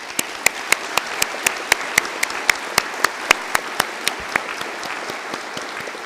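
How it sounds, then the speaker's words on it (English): Warm audience applause at a University of Galway winter conferring ceremony, a dense hall-wide patter of clapping with a few sharp, evenly spaced louder claps standing out near the front, sustained for several seconds. "with a warm round of applause."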